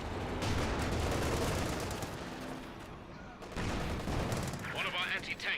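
Battlefield gunfire from Company of Heroes 2: a dense, steady crackle of rifle and machine-gun shots mixed with heavier booms, loud throughout, with a brief dip before it swells again, and voices faintly underneath.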